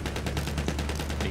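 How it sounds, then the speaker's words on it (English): Rapid automatic gunfire in the World War I shooter Battlefield 1, dense overlapping bursts of shots rattling continuously at close range with no voices. "this amount of shooting, that only happens to me when I'm"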